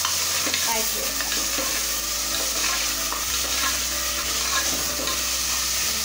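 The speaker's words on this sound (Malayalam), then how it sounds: "ഇനി ഞാനിതിലേക്ക് മട്ടൺ ചേർക്കാൻ പോവുകയാണ്. നമുക്കിതിനെ നന്നായിട്ട് തന്നെ വഴറ്റി വെക്കാം." Mutton sizzles in a hot pan while being sautéed, with constant close frying hiss and repeated scraping and stirring throughout.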